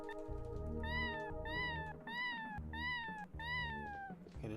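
A cat in a video game meows five times in a steady rhythm, each meow a clear rising-then-falling cry over a low, droning game background.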